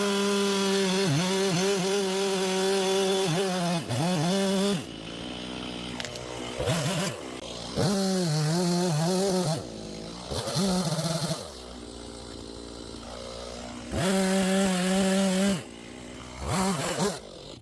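Chainsaw cutting through massive crepe myrtle bushes on soft ground, the engine revving loud and close in long bursts that rise and drop, with short idle gaps between cuts.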